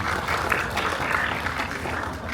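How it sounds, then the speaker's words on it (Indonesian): Applause from parents and guests at a high school graduation ceremony for the teachers, a soft continuous patter of many hands, somewhat distant and even in level. "Tepuk tangan juga untuk Bapak Ibu guru kami."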